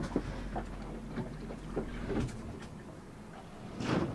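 A sailboat's hull slamming into waves while sailing upwind in strong wind off Thailand, heard from inside the cabin as dull irregular thuds and creaks, with a heavier bash near the end.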